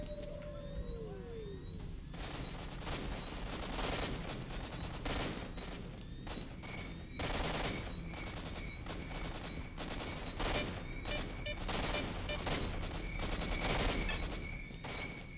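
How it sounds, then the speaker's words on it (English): Sustained gunfire fills a firefight in the shooter game S.T.A.L.K.E.R.: Shadow of Chernobyl, with dense bursts and rapid automatic fire, loud and continuous throughout, some shots sharp and close, others rattling in the background, with no talking. "There's a lot of gunfighting going on."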